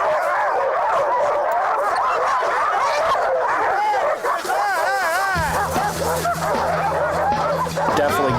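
A pack of sled dogs near Juneau, Alaska barks, yips and howls in a loud, overlapping chorus, with a low engine hum joining partway through.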